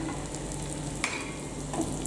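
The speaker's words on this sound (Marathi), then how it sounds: "आता उरलेलं आपल्याला तेल टाकायला पाहिजे म्हणजे डाळीचं पीठ सुट्टं होईल" Gram flour and onion frying in oil in a pan, stirred with a spoon, making a soft, steady sizzle close by, broken by a couple of sharp scraping clicks from the utensil.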